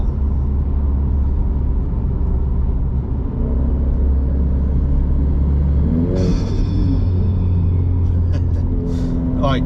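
A Renault Clio IV RS fitted with a hybrid turbo rumbles at light throttle, then revs partway through as the turbo spools with a rising whine, and a voice speaks briefly over the engine.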